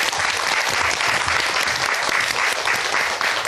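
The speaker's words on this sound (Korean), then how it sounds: "여러분 박수 부탁드립니다." Loud, sustained applause from an audience, dense and even clapping throughout with no pauses.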